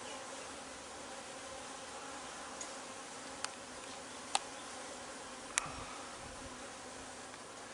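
Honeybees from an open-air colony in a window, with comb spilling onto brick, making a faint, continuous buzzing hum broken by a few brief clicks and taps, with no voices.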